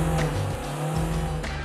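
A car revs and accelerates with its tires squealing, a loud, close engine roar that shifts pitch over a steady high screech.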